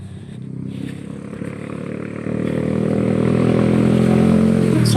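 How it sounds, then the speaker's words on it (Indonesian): Motorbikes speed along a road, a continuous engine drone that swells steadily and grows louder as they close in, loud and without voices. "Aku sengaja jalan di sebelah sini guys karena motor kenceng-kenceng"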